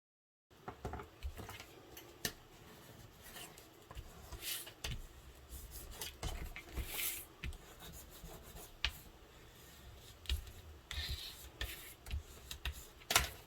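Tape being pulled and wrapped around a corner cutting tool, heard as close, irregular rubbing, crinkling and tearing noises with soft handling bumps, and no talking.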